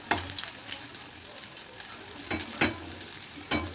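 Spring rolls deep frying in hot oil, a steady low sizzle with a few sharper crackling bursts near the end, moderately close and without talk.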